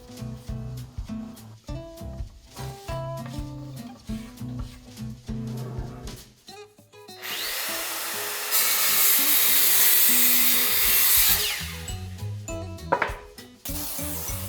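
Cypress offcut wood being cut to length with a power saw, a steady loud high-pitched whine of sawing in the middle, with clattering, knocking handling noises of the wood before and after.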